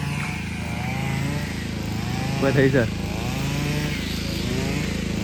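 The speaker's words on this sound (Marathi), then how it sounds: "ट्रॅक्टरने लावतात, म्हणजे ते पण उखळणी करतात." Tractor ploughing a rain-soaked farm field in the Konkan, a steady low diesel drone running throughout with a brief louder surge midway, while someone speaks over it.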